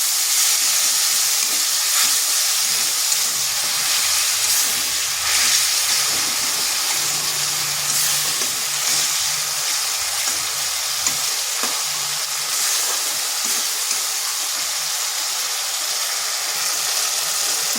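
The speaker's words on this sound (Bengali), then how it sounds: "মশলাটা দেখুন ভালোভাবে কষা হয়ে গেছে আর কড়াই থেকে তেল ছেড়ে যাচ্ছে" Masala frying in oil in a kadai after a splash of water, a loud continuous sizzle and hiss with bursts of spatter and faint stirring throughout, no one speaking.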